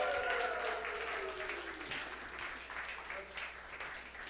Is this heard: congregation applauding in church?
yes